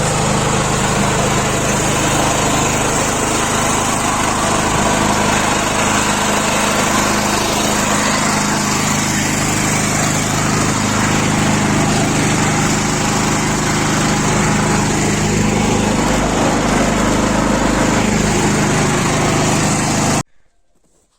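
Small engine of a modified vehicle running steadily and loudly close by, a constant buzzing drone that holds for about twenty seconds before cutting off abruptly near the end, with no talking.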